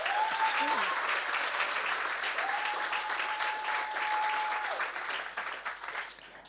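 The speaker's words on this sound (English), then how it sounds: "So let's give them a round of applause." A large audience at a startup showcase event in Cape Town breaks into a sustained round of applause, dense and steady throughout, tapering slightly at the end, with a faint tonal whistle-like line running beneath it.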